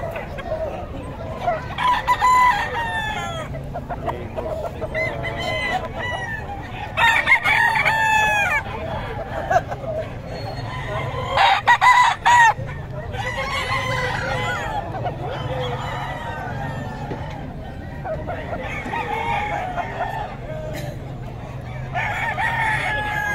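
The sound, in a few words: chickens, rooster crowing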